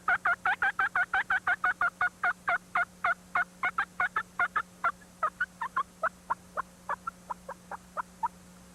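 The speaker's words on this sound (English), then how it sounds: "compare them just as soon as we do this mating or love" A turkey hen's mating cackle: a rapid run of about thirty sharp, loud clucks that gradually slow and soften toward the end, heard alone over a faint steady hum.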